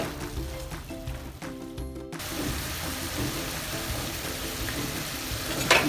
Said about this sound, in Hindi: सो अब इसको हम भूनेंगे और 7 से 8 मिनट तक इसको भूनेंगे